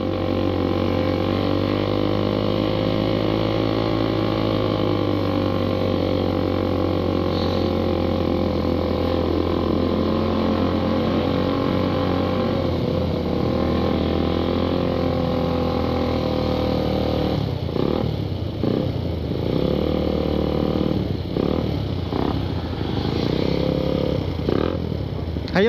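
A Suzuki Satria FU motorcycle with a Bobok aftermarket exhaust rides below 5000 RPM, giving a steady throaty engine drone that rises and falls slightly, with rougher revving bursts near the end and some speech.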